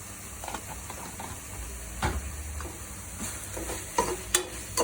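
Rajma pulao stirred in a pan, with soft sizzling under a few scraping spoon strokes and light knocks against the pan, fairly quiet and close, without talk.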